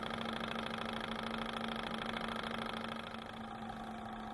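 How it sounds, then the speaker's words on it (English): Small Stirling engine in a physics lab, spinning freely with its clutch disengaged, giving a steady, even mechanical hum and whir that is close and constant, with no voices. "The engine begins while rotating freely, but when this clutch is engaged, it begins to rotate the rod which pulls up the weight."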